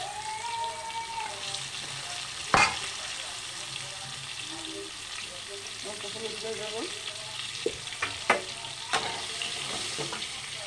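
Pointed gourd (potol) pieces frying in oil in a pan give a steady close sizzle, broken by a few sharp clinks of stirring.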